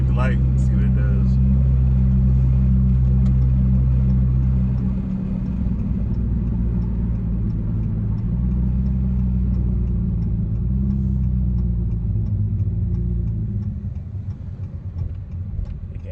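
A car's engine, tuned with a pedalbox and set to sport mode, drones in a deep steady rumble that swells and then eases slightly toward the end, loud and close, with little talk over it.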